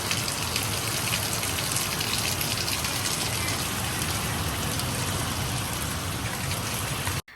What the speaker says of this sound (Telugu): అలా తిన్నామో లేదో కొద్దిసేపటికి ఫుల్ వర్షం అయితే స్టార్ట్ అయిపోయింది.